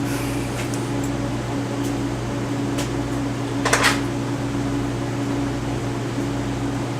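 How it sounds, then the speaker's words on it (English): A household washing machine runs with a steady low mechanical hum and whir, joined by a few faint clicks and a brief rattle midway, continuous and fairly close. "our washer's on"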